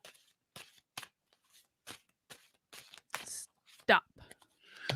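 Tarot cards being shuffled by hand in short riffling bursts, spaced irregularly across the moment, close and moderately loud with brief pauses between.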